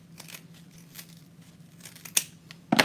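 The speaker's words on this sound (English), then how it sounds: "you're going to cut an edge off this side" Scissors snip through the edge of a ribbon in a few soft, quick cuts amid faint rustling, ending with a louder crisp snip; close and quiet, with no talking.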